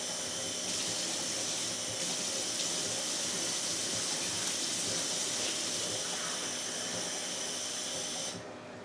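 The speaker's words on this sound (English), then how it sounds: "So now you're gonna add 3 to 4 cups of water" Water runs steadily from a tap into a pot for pasta, a continuous faint hiss and splash with no pauses, ending abruptly as the flow stops.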